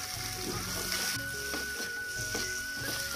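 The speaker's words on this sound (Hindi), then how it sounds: "इसको भी अच्छे से दो मिनट भूनेंगे अब इसमें हम डाल देते हैं ये मसाला वाला खटाई है जो अचार होता है" Vegetables, including boiled elephant foot yam, fry in a pan with mango pickle masala, giving a steady, dense sizzle with faint stirring clinks throughout, heard alone and fairly close.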